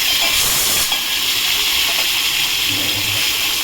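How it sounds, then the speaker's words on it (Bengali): Green chillies and onion fry in oil in a pan, a loud, continuous broadband sizzle with a faint voice underneath. "দিয়ে কাঁচা লঙ্কা পেঁয়াজটা আমি ভালো করে ভেজে নেব"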